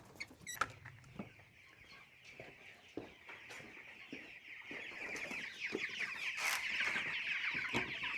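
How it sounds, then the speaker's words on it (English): Three-week-old Cornish cross chickens in a brooder barn on a small farm, a flock clucking and cheeping with sharp scattered peeps over a rising busy chatter, close by and fairly soft. "We're going to check out our Cornish cross that are just now 3 weeks old."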